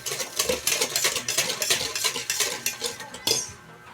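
A utensil stirs bibingka batter in a bowl with quick, rhythmic scraping and clinking strokes, about a dozen in a row, close and fairly loud, with no talking.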